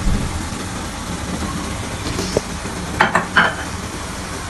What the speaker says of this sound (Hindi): ये भी बस मैं बघार के लिए कुकिंग ऑयल डालूंगी थोड़ा सा